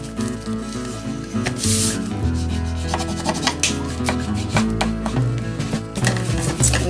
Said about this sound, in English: I'm going to actually get another piece of tape and do that just to give it that little extra bit